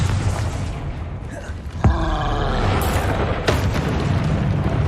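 A Confringo explosion spell bursts in Hogwarts Legacy, a heavy boom with rumbling crackle and a sharp impact midway, over a dense, continuous roar of game combat noise.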